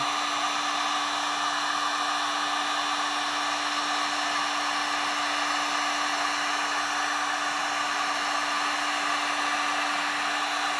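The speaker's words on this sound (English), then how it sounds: "When you put the foam to it, or the heat gun to it," A heat gun blows steadily on craft foam for an Iron Man helmet, a constant close whooshing roar with a faint steady hum, unbroken throughout and no talk.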